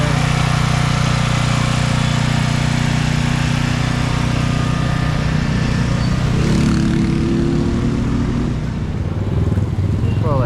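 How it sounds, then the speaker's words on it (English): A generator running in earthquake-damaged Pereira, Colombia, a loud, close, steady engine drone that holds throughout and shifts slightly in pitch toward the end. "Got a generator running here."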